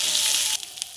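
Garlic paste fries in hot oil with a loud hiss that abruptly drops to a softer crackle halfway through the brief moment.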